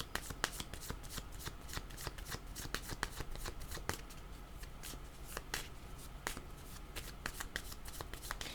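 Cards are shuffled close up for a tarot-style card reading, with a continuous run of rapid riffling and snapping flicks lasting several seconds and no one speaking.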